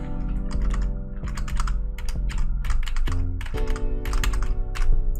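Typing on gigantic computer keyboard keys produces a busy, uneven clatter of keystrokes, fairly loud and close, over a sustained tonal background.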